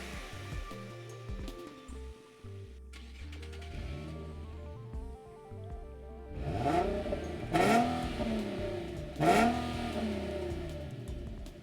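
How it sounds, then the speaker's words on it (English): A 2015 Infiniti Q50S 3.7-liter V6 with dual exhaust idles, then revs up sharply several times, its exhaust roaring and dropping back between each throttle blip, fairly close. "dual exhaust tips that, while not as aggressive sounding as on the first-gen G35, still emit a sporty note"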